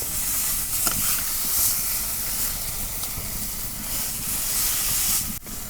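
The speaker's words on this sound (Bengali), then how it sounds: "মাছের মাথাটা ভালো করে ভাজা নিতেছি" Loud, steady sizzling hiss of a fish head frying in hot oil, continuous throughout with no talking.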